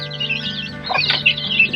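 Native chicks cluck and peep in a brief, close burst of high, chirpy calls, several birds overlapping over a low background hum.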